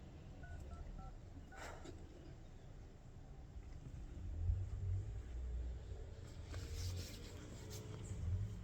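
Telephone keypad tones as a number is dialed on a phone, a few short beeps early on over a steady low rumble of background noise, no talking.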